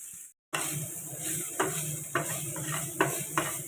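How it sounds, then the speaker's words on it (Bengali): Vegetables fry in oil in a pan with a constant close sizzle, broken by a few scraping stirs of a utensil against the metal. "এটা কড়াই তেল বসিয়ে দিয়েছি ফ্রাই প্যানে দিয়ে এবার এটা দিয়ে দিই ভাজা ভাজা হোক"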